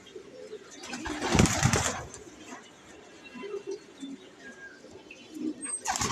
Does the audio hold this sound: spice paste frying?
no